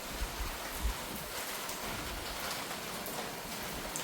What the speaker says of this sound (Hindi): क्या ज़बरदस्त बारिश हो रही है